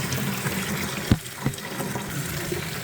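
Lukewarm water runs steadily into a bucket for a few seconds, a continuous close splashing fill with a couple of brief knocks partway through, no voices.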